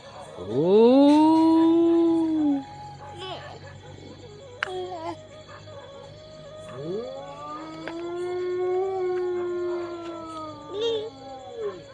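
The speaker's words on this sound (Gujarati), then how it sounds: "કૂતરાભાઈ રોવે છે" A dog howls in two long, rising and falling wails separated by a pause, close and fairly loud, with brief whimpering between and quiet talk in the background.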